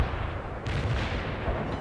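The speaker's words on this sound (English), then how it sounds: "Artillery barrage." An artillery barrage in the World in Conflict video game: a continuous, loud roll of overlapping booming blasts with a fresh heavy impact partway through, and no talking.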